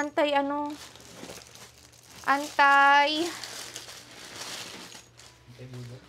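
Plastic wrapping around baby items crinkles and rustles in short bursts while people talk over it.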